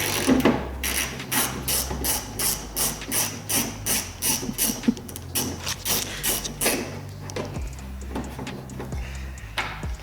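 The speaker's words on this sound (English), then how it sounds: "You have two 11mm bolts, one on each side, and you'll want to go ahead and start by taking those off." Hand ratchet clicking in repeated bursts as 11mm bolts are loosened on a Ford Super Duty tailgate, with metallic taps in between; close and fairly steady, with no talk.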